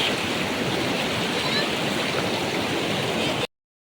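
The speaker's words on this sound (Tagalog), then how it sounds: "Kita nyo ang agos, talagang halimaw ang agos." Strong rushing current of the Bagsit River, a loud, steady broadband roar of churning water heard up close, continuous and unbroken before cutting off abruptly.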